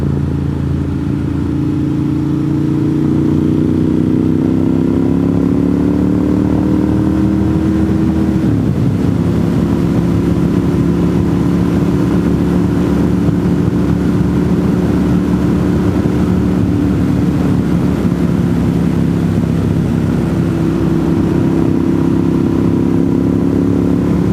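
An older Ducati Monster with a dry clutch riding a winding road in Western North Carolina, its engine droning steadily and loudly with pitch rising and falling through gear changes, no voices.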